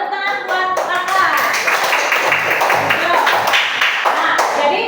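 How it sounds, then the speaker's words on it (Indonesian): Classroom clapping for a student during a Quran study lesson, a brisk run of hands clapping close by, mixed with children's voices and chatter throughout. "Ya, tepuk tangan buat Kakak."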